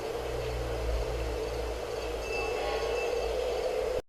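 Electric 2D2 locomotive running a shuttle service in Railroad Tycoon 3, a steady low rumbling hum with a faint hiss that holds evenly before cutting off abruptly.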